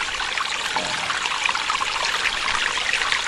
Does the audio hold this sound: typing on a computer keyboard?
no